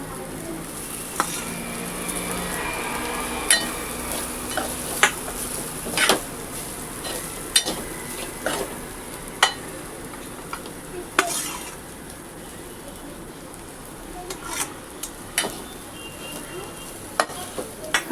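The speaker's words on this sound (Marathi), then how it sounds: "मसाला फ्राय झाला आता आता टाकते भात" Cooked rice tipped into a pan of fried masala for masale bhaat sizzles steadily while a spatula stirs and scrapes against the metal, with sharp intermittent clinks throughout, close and without talk.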